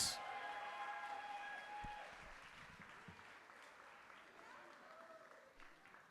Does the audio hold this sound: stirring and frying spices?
no